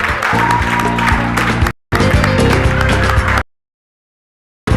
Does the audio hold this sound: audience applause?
yes